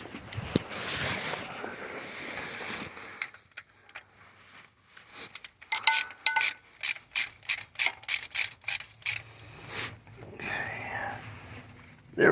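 Ratchet wrench on an extension turning a bolt on the turbo oil supply line of a 2011 Chevy Cruze, giving a rapid series of sharp, evenly spaced clicks in the middle, with quieter handling noise and soft talk before and after.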